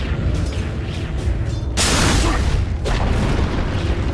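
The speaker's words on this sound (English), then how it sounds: "Dire's middle tower has fallen" The Dire middle tower in Dota 2 is destroyed in a loud, deep booming crash that swells into a rumbling burst over dense battle noise and thumps, staying heavy throughout.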